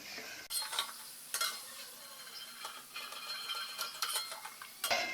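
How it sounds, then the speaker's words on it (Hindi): Beetroot pieces fry in oil while a ladle scrapes and knocks against the pan in irregular metallic clatters over a soft background sizzle, close and without voices. "इसी तरह बाकी के बीटरूट भी फ्राई कर लेंगे"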